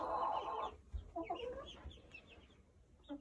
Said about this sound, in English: this is what it looks like with our chickens roosting on the roost at night